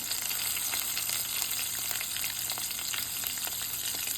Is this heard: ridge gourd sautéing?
yes